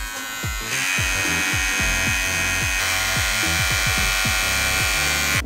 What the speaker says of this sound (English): And then both of them together.